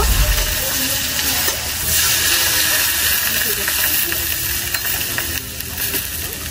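Eggplant and potato pieces frying with cumin in a pan get water added and are stirred, a loud continuous sizzle and hiss with scraping stir strokes running through it.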